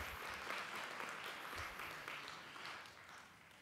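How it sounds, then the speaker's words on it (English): Audience at a keynote during an Alaska summit applauds, a continuous wash of clapping, fairly quiet and distant, slowly tapering off. "I think we should all give them a round of applause"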